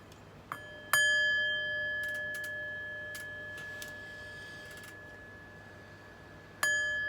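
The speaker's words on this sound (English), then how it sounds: "But first, let's chime." A chime rings out clearly at the start of an astrology reading, a bright metallic strike with a long, slowly fading tone, followed by a second strike near the end.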